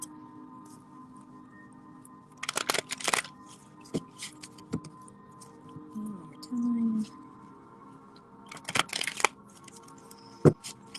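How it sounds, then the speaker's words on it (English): Two quick bursts of cards riffling and snapping together, a few seconds apart, with a short spoken phrase and a few soft taps in between. "Okay, now for the last deck, deck number 4, let me shuffle it"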